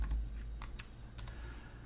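Brief typing on a computer keyboard with caps lock on, a few soft, scattered keystrokes, two of them sharper, heard alone and fairly faint.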